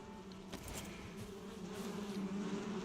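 Bees buzzing around a beehive set on a pole in the survival game Conan Exiles, a steady droning hum, moderately faint and continuous, alone without talk.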